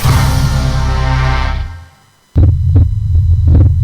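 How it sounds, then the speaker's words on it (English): A human heartbeat, a steady low throbbing pulse with a rhythmic thump-thump pattern, loud and close, following a short drop to near silence. "This is the actual sound of my heartbeat."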